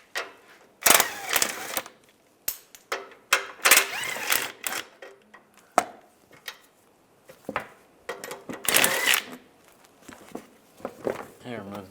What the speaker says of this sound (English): You want to take these 4 bolts out.